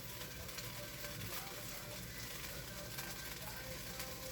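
Fried rice frying in oil in a pan gives off a steady, dense sizzle that holds evenly throughout with no pauses, close and moderately loud.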